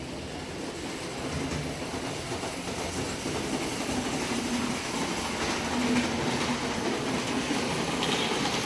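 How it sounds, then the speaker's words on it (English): Model train running on a layout at a train show in an arena, a steady rolling rumble with faint clickety-clack of wheels amid hall background noise. "this one's allows you to operate the train too."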